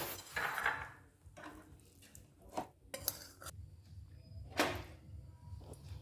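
Coconut and sandesh mixture scraped and poured from a pan into a dish, with a handful of soft metallic clinks and scrapes of a spoon against cookware, quiet and close.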